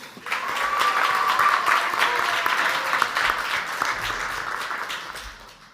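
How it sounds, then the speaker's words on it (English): A crowd at a student recognition ceremony applauds with sustained, dense clapping that swells quickly and holds steady before gradually tapering off. "Round of applause, please."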